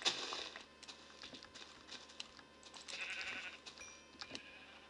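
Sheep in Minecraft bleat in several quick overlapping calls against a faint rustling background, with no talking.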